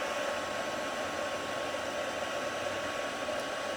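A heat tool for melting embossing powder blows a steady, loud whooshing roar like a hair dryer, unbroken and alone for the whole stretch.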